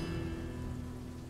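Steady rain falls in the Dwarf Fortress game, a dense even hiss with a low hum underneath, continuous and fairly loud for the whole moment.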